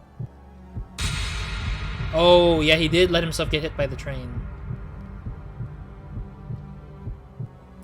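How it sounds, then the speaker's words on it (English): A heartbeat sound effect from the video game The Silver Case thumps slowly and steadily under a low hum, while someone talks over it. "why is my heart beating?"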